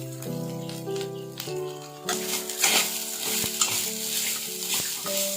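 Quail being stir-fried with masala powder in a pan, a steady close sizzle broken by repeated scraping stirs, with a background music bed underneath.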